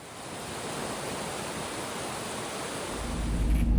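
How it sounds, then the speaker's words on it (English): Wacona Falls after a big thaw: meltwater pours in a dense, continuous roar of rushing water, loud and steady throughout, growing heavier toward the end with some low wind rumble and no voices. "The water was flowing at Wacona Falls because we've had a big thaw the last 2 days."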